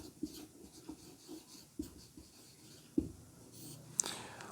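A solution to a current electricity physics numerical is written by hand, with soft, faint scratching strokes and a few sharp taps. The sound comes close and quiet against low background noise.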